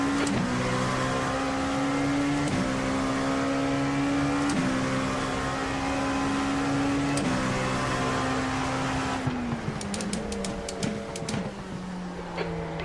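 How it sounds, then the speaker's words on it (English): Race car engine at Sebring during an IMSA race, a steady droning note from inside the car with harmonic shifts through gear changes, the pitch dropping near the end amid small clicks and rattles. "There's a faster car approaching."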